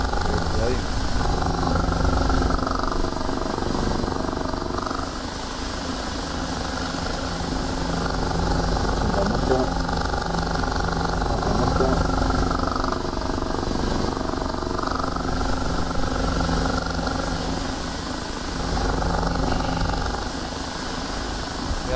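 Engine and rotor of an OH-58D Kiowa helicopter in the DCS flight simulator, a loud constant turbine whine and rotor drone throughout, with people talking over it.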